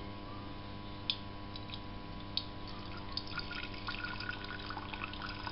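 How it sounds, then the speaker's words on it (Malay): Water trickles and drips onto bean sprouts being grown in a container. Faint, steady liquid splashes with a few sharper drops, heard alone and fairly quiet. "Dan kita buat lagi sekali, tambahkan air."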